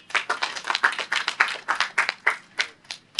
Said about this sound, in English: I think, that needs a round of applause for her.